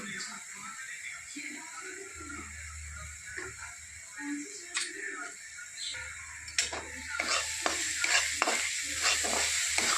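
Ground masala of coriander powder, homemade black masala, onion-garlic masala and a pinch of asafoetida roasting in butter for a tilapia fish gravy, giving a steady close sizzle with scraping stir strokes and ticks, growing busier toward the end as someone talks.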